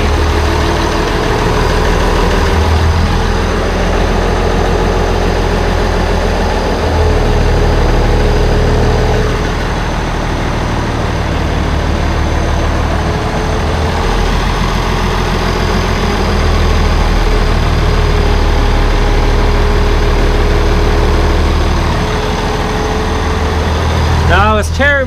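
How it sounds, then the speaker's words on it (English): An International Harvester 1086 tractor idles with a steady low diesel rumble and faint mechanical chatter that holds evenly from start to finish, close up, with someone talking over it now and then. "we're idling here, no problem"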